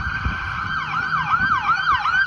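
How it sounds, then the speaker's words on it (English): An ambulance siren wails on a Boston street, a steady tone that shifts into rapid rising-and-falling yelps, fairly close and loud over low traffic rumble. "see a lot of ambulances here"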